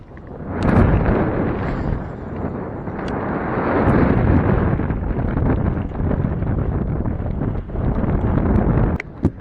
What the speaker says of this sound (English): that wind is picking up now, ain't it?